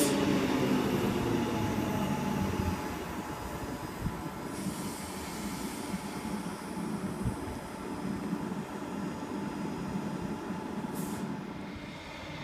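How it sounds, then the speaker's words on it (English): A Queensland Rail electric multiple-unit train pulls into a platform at Wooloowin station, a steady rumble of wheels and motors with a brief airy hiss partway through and a high squeal near the end. "Brisbane City and Park Road train arriving into platform 1"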